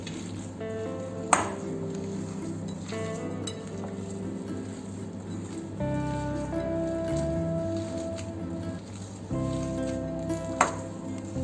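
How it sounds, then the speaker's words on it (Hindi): Paneer and mawa being mixed and kneaded by hand for malai kofta, soft close squishing and rubbing with a few light knocks against a bowl, faint steady kitchen hum behind. "अब इन सारी चीजों को अच्छी तरह से हाथ से मिक्स करेंगे।"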